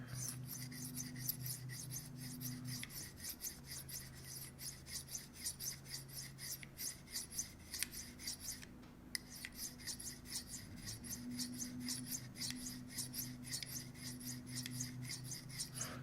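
A knife is sharpened freehand on the fine side of a Spyderco Double Stuff ceramic stone, making a rhythmic, close raspy scraping of repeated strokes back and forth, with a low hum running underneath.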